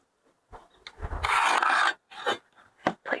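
A pencil scratches marks onto wood wall-framing studs, close, in a few short scraping strokes with one longer rasping stroke and brief pauses between them.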